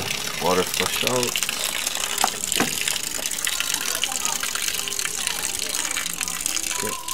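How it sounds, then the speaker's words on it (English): Water flushes out of an aquaponics swirl filter in a steady, loud rushing gush that runs the whole time, with a few brief voice sounds near the start. "Remaining water flush out."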